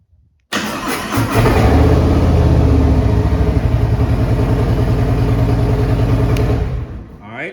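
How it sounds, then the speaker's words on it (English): A motorcycle engine cranks and catches after a wiring repair, then idles steadily and loudly up close with a fast, even pulse before cutting off near the end. "Let's see if the bike is gonna start up."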